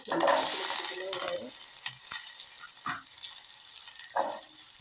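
Tempering spices crackle and sizzle briefly in hot oil for a tomato curry, the loud spitting fading to quieter pops with a few scattered clicks and stirs.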